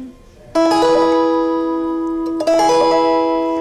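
Gusli, a Russian plucked psaltery, sounding a bright ringing chord that sustains and slowly decays, then a second strummed chord returning to the tonic, close and clear with no talk.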